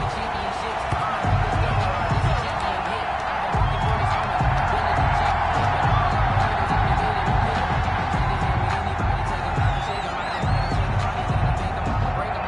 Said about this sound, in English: This crowd is ready as their guys get set to match up between the Detroit Lions and the Green Bay Packers.